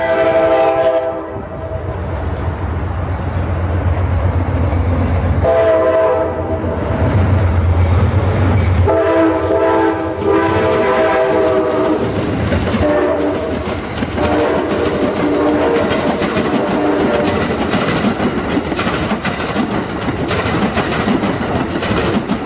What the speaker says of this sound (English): Nice horn action.